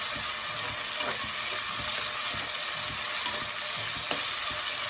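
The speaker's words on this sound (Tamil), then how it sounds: "பச்சை சுண்டைக்காவை நல்லா கொஞ்சம் வதக்கிக்கணும்" Green turkey berries sautéing in a pan with a loud, dense, continuous sizzle and a few faint stirring knocks, close up with no talking.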